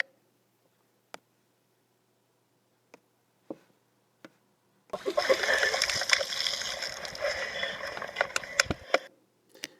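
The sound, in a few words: sea waves hitting the base of a cliff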